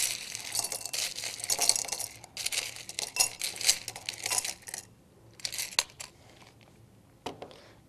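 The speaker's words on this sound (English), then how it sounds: "Start by filling a 400 milliliter beaker, approximately 1/3 full," Ice cubes clatter and clink into a 400 milliliter glass lab beaker in quick irregular bursts, a rattling tumble with short pauses and a final isolated clink, close and fairly quiet.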